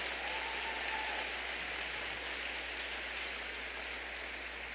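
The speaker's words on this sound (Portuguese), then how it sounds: "Pode aplaudir, pode aplaudir, pode aplaudir." A church congregation breaks into continuous applause, an even, rain-like hiss of many hands clapping together that stays steady for several seconds beneath a faint low hum.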